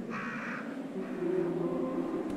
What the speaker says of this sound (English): the ambiance of Raccoon City with the crows and the moans and the wind